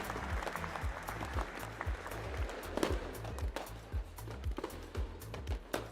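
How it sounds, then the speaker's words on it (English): A short stream alert effect of fireworks crackling and popping under a bed of crowd applause, with steady low rhythmic music pulsing underneath throughout. "Fireworks and applause."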